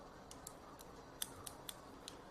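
Scissors trim hair for a collarbone-length haircut, giving a handful of crisp, quiet snips at irregular intervals over soft background noise.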